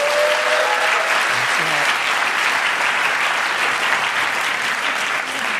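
A room full of people applauds steadily and loudly throughout, dense clapping with no pauses.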